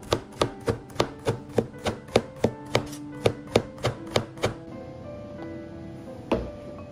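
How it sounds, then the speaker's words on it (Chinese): A knife slices halved, seeded bitter melon on a cutting board, about fifteen crisp, evenly paced chops over four and a half seconds, then a pause and one final cut, close and clear with no talk. "然后把苦瓜切成片"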